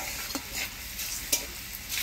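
Crushed garlic and black cumin seeds frying in hot oil, a continuous sizzle broken by a few short stirring scrapes, close and fairly quiet, no talking.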